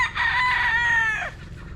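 A young gamefowl stag rooster crows once in a barn, a loud close crow lasting over a second that tails off at the end, heard alone.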